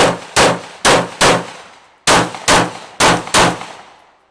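A 2011-style pistol fires eight loud, close shots in two quick bursts of four, each sharp crack followed by a short ringing decay, with a brief pause between the groups and no talking.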